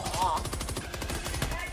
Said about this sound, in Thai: ได้ยินแต่เสียงปืน